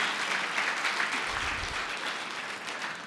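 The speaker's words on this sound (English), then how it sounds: "You have to give him a round of applause," Steady audience applause at an awards ceremony for a winning actress, dense continuous clapping filling the hall without a break.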